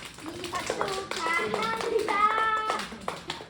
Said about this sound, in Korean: 승래서영이 우리 몇 년 동안 같이 했으니까 잘했다 박수 한번 쳐줘